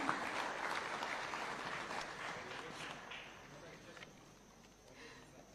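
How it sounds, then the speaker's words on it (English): Audience applause rings out at a Kenyan awards ceremony, dense clapping that starts strong and gradually fades away over several seconds, fairly distant in a large hall. "A round of applause, ladies and gentlemen."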